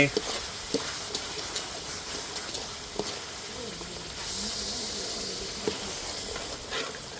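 Pork and pea eggplants frying in a pan for a temple meal, a steady sizzle and hiss with scattered sharp ticks of a utensil stirring and scraping, at moderate level throughout.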